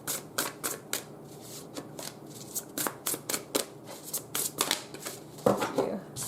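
Tarot cards being shuffled by hand in a quiet room, a rapid run of crisp riffling flutters and soft slaps, close and clear with no talk.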